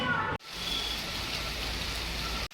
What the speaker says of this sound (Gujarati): તો અત્યારે ફૂલ વરસાદ ચાલુ છે